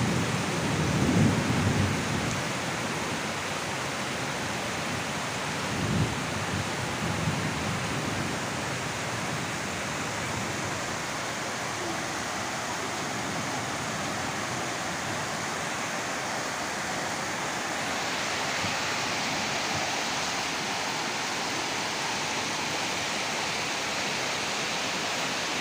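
Heavy rain pouring outside a window onto a balcony during a cloudy afternoon, a dense, even roar that continues for the whole stretch with a low rumble near the start.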